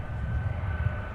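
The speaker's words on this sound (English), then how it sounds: "catch the 757 departure" A Boeing 757 jet taking off at Minneapolis–St. Paul airport: a loud, broad low engine roar sustained through the brief moment, with no talk.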